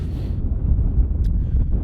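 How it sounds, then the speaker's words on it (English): A gust of wind on a snowy mountain in the Hunters Range, heard as a heavy, low rumbling buffet against the microphone that stays loud throughout. "There's a gust of wind."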